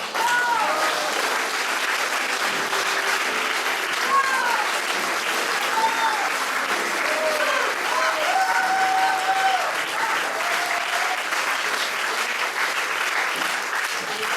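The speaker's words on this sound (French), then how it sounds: "On peut les applaudir encore une fois, Jean-François Martin, pour cette ouverture de la soirée cabaret." Sustained audience applause at an improv cabaret evening fills the room with dense, even clapping that holds steady throughout, with faint voices underneath.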